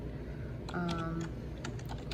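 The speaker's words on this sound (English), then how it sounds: "I'm typing with one hand." Scattered clicks of one-handed typing on a computer keyboard while filling out a work order, irregular light taps near the mic, with a brief voiced murmur partway through.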